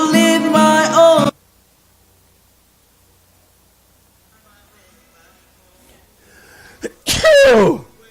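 A single sharp, loud sneeze bursts out near the end, following a voice at the start and a long stretch of near silence.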